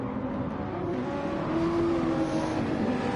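GT race cars circle Lago Maggiore in a racing video game, engines droning steadily at mid distance with one rising whine, and no talk.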